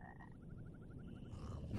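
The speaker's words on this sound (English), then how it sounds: "here's the giant toad over here" Giant toad croaking in the video game Mortal Shell, a rapid rattling series of about a dozen short croaks in quick succession, fairly faint over a low ambient rumble.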